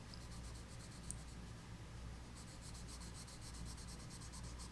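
A colorless blender pencil rubs over Polychromos colored pencil on paper while tulip leaves are being colored, giving a close, soft, continuous scratchy scrubbing in quick, even strokes.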